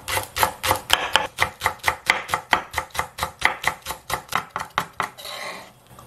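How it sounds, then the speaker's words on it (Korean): A knife slices a stalk of Korean green onion into thin rounds on a board, about twenty quick, even chops in a close, steady rhythm that stops near the end. "대파 한 뿌리를 썰어 놓겠습니다"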